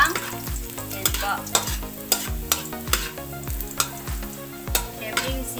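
Garlic frying in a pan for pocherong tilapia, a steady hiss under repeated sharp clacks of a utensil stirring and scraping the pan roughly every half second, no voices.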